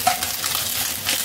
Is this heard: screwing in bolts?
no